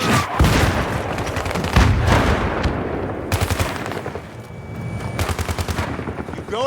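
Dense bursts of automatic gunfire in Battlefield 3, a covering barrage laid down in rapid repeated volleys at close range, with short pauses between the strings of shots and no talk.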